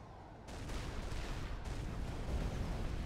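Bombing explosions in the strategy game Supreme Commander, a continuous rumbling barrage of blasts that turns louder and denser about half a second in and keeps going without talk.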